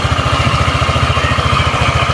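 An ATR 160 motorcycle engine idles up close, with a loud, even, rapid low pulsing that stays steady and is heard alone.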